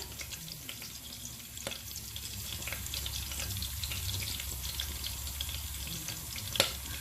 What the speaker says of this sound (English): mustard seeds, and the fenugreek seeds, everything, all of them together into the oil